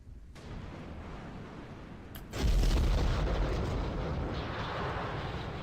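A rocket blows up in Kerbal Space Program, a sudden loud boom cutting into a steady rumbling roar that keeps going afterward, with no talking.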